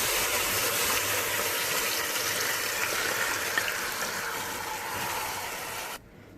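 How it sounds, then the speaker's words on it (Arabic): Water poured into a pot of soaked basmati rice, a continuous close rushing splash that holds steady for about six seconds, then stops abruptly. "رح نزله بالطنجرة."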